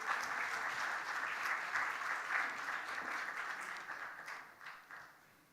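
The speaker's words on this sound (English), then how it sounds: "let's welcome with a big round of applause Mr. Bhoj Raj Pokharel." Conference audience applauds a keynote speaker at Kantipur Conclave, a steady wash of many hands clapping that gradually tapers off and fades.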